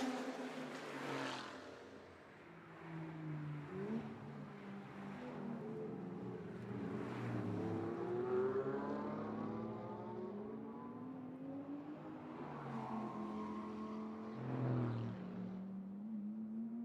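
Race cars rolling on out-laps around the Vila Real street circuit during qualifying, a steady continuous engine drone with shifting revving tones throughout, fairly distant and blended with crowd and event ambience.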